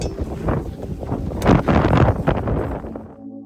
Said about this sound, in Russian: Смотрите, какой ветер.